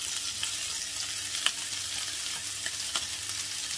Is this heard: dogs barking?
no